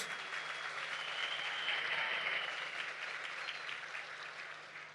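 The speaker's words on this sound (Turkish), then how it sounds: "Kendisini yürekten alkışlıyoruz." An audience at a Turkish political rally applauds, a steady wash of clapping from a crowd that fades slightly at the end, heard at moderate distance.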